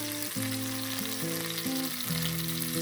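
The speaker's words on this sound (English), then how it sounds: "I'm just going to lay that nice big steak in the pan, laying away from myself, just like that." A big, fatty steak sears in a frying pan with a steady, close sizzling hiss, and faint tonal hums shift underneath it throughout.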